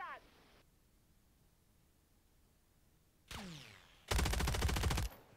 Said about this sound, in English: who was shooting at me?